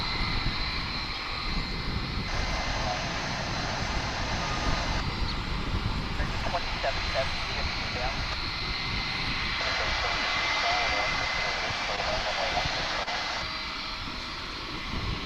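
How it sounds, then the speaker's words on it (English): An American Airlines jet airliner arrives from Maui onto the diagonal west-side runway at Dallas/Fort Worth International Airport, its engine roar steady and broad throughout, with a voice talking over it. "American Airlines morning flight coming in from Maui, but it's coming in on the diagonal runway here on the west side"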